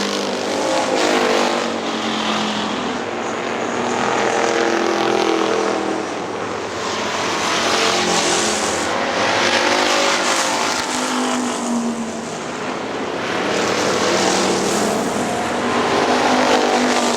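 Factory stock cars race at Hartford Speedway, a loud continuous roar of several engines swelling and fading in waves as the pack passes and circles the track, with no talk over it.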